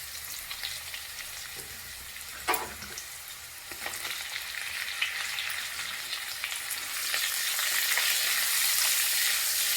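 Drumstick (moringa) pieces fry in hot oil in a pan, making a continuous close sizzle with scattered stirring scrapes and a sharp clink of a utensil. The sizzle grows louder toward the end, and no one speaks.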